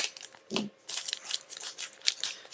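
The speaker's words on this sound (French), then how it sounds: "ne plus faire d'unboxing de booster avec ces ciseaux" Scissors snip and crunch through the foil wrapper of a Majigate Daishoukan trading card booster pack, a few close, quiet cuts and crinkles in quick succession.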